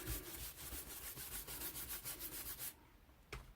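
A brush scrubs rhythmically back and forth, rubbing linseed oil into printed tissue paper, close and soft, then stops with a brief final stroke.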